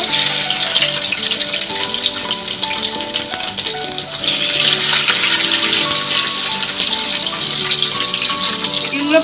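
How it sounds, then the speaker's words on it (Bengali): Eggs frying in a pan of hot oil, a loud, continuous crackling sizzle with spitting bursts that persists throughout and intensifies slightly midway. "এই ডিমগুলো হালকা করে ভেজে নেবো।"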